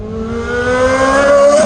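A Ferrari 360 with an IPE exhaust and open valves drones and rises steadily in pitch, a loud, raspy, aggressive exhaust note revving up close.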